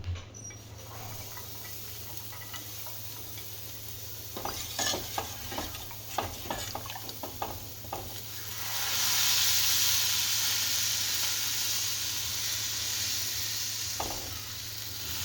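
Chopped onions hit a hot griddle with a loud sizzle and hiss, followed by a run of sharp stirring scrapes and a surge of steady frying that settles into a continuous crackle, with no talking.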